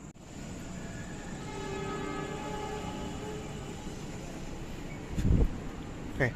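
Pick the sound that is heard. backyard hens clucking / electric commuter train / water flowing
electric commuter train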